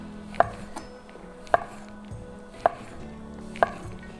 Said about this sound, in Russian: И нарезаем лапшичку.